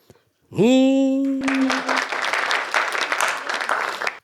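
A voice holds a long sung or shouted note, then a crowd bursts into loud, sustained applause that continues steadily to the end.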